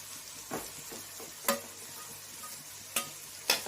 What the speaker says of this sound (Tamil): நம்ம போட்ட கத்திரிக்காய் கலர் மாறிடுச்சு பார்த்தீங்களா வதங்கிடுச்சு இந்த எண்ணெயிலே